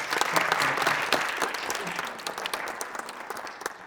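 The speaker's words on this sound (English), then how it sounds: "Yes, give me a round of applause." An audience at an evening school panel on human trafficking for parents and students breaks into steady, dense applause, many hands clapping together at full strength before gradually thinning toward the end.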